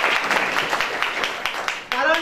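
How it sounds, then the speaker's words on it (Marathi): An audience claps to welcome farmers at a bullock-pair competition prize ceremony, a steady patter of applause running throughout with a voice talking over it. "उपस्थित शेतकऱ्यांचं मी पुनश्च टाळ्या वाजवून स्वागत करतो"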